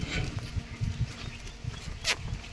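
Beetal goats bleat and shuffle close by in a farm pen, with a continuous background murmur and a sharper cry near the end.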